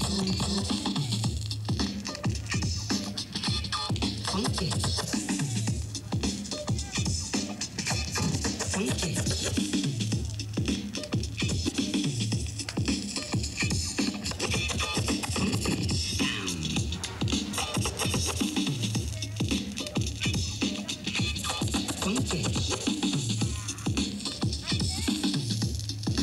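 Dense, loud music with rhythmic scratchy DJ turntable sweeps cutting through throughout, busy and continuous for the whole stretch.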